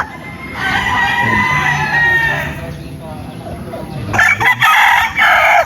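A gray gamefowl rooster of Banahaw lines crows loudly nearby with a long drawn-out call, followed by further harsh crowing bursts, while other fowl and a voice sound in the background.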